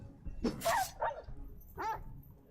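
A dog in a video game barks sharply three times, loud and close, the first two close together and the third after a short pause, with faint game ambience underneath.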